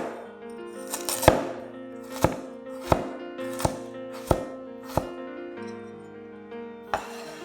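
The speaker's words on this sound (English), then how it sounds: "Next, julienne some carrots." A knife julienning carrots on a cutting board gives about seven crisp, evenly spaced chops, each one close and distinct. A steady hum sits underneath.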